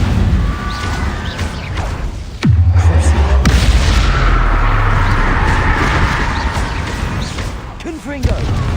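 A Confringo blasting spell explodes in Hogwarts Legacy, a sudden loud boom that leaves a sustained low rumble under constant game noise, with a second burst near the end; a man calls out spell names over it.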